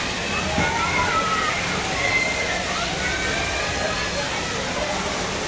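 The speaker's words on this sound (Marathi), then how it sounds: "आता कोकम बघायला पाणी येईल खाली बघा कसं येते" Steady rushing water pours down continuously, a loud broad hiss that never lets up, with faint voices underneath.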